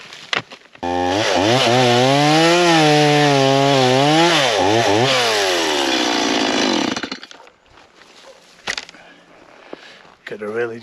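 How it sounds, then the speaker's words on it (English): A chainsaw cuts into a rotten log, loud and close, its pitch rising and dipping as it bogs into the wood for several seconds before cutting off, leaving quiet background sounds. "Do have a bit of chainsaw work to do on this thing"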